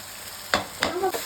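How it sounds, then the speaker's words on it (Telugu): Tomato with sambar powder fries in oil for an okra curry, a soft sizzle broken by three quick spoon scrapes against the pan. "సాంబార్ పౌడరు, కొద్దిగా చిల్లీ పౌడరు వేసుకొని పచ్చివాసన పోయేంత వరకు ఫ్రై చేసుకోండి ఆయిల్లోనే."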